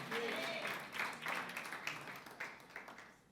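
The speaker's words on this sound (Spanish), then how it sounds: "Dale un aplauso al Señor por eso." A church congregation claps in sustained, dense applause at a worship gathering, steady throughout with rhythmic surges, fairly quiet and distant, with voices mixed into the crowd noise.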